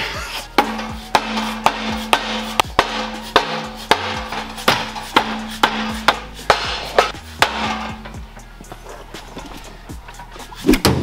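Heavy, evenly spaced hammer blows ring out one after another, loud and close, with a low hum in the background.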